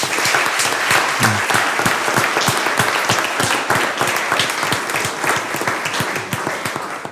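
At a school board meeting, a roomful of people gives sustained, even applause for regional qualifiers and state-level participants, the clapping continuing throughout before easing slightly at the end.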